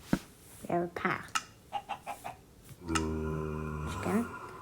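Minecraft chicken clucks in short bursts, followed by a longer sustained tone, close and moderately quiet with no talk over it.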